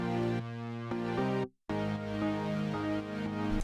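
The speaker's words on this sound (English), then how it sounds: "And so those two synths together sound like this." Layered harpsichord and Juno-style Serum synth patches play sustained chords in a pop production, with one brief full dropout near the middle before the chords resume, steady and upfront with no talking.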